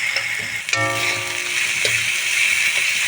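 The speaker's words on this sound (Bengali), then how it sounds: "খুব ভালো করে আমি মশলাটা কষিয়ে নিচ্ছি" Spices for a bata fish curry, with sugar and salt mixed in, sizzle loudly in a hot pan, a close, continuous frying hiss broken by a couple of sharp clinks and scrapes of stirring, no speech.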